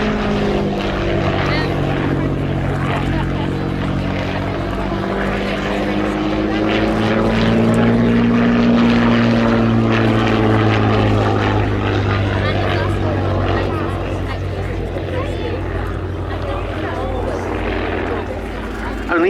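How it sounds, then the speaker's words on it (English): A Hawker Fury Mark I biplane with a 525 horsepower supercharged Rolls-Royce Kestrel V12 piston engine flies at the Cosford Air Show, a loud, steady engine drone whose pitch rises and falls, heard under continuous announcer talk. "This Mark I has a 525 horsepower Rolls-Royce Kestrel supercharged V12 piston engine."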